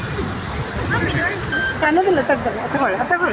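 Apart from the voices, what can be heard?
Gokak waterfall on the Ghataprabha river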